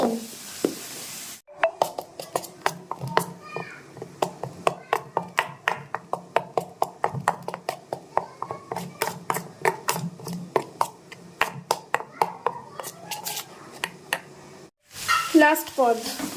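Bitter gourd and bottle gourd peel fry in a pan. Dense, rapid scraping strokes of a stirring spatula run over a soft sizzle, loud and close, with a brief break near the start and again near the end.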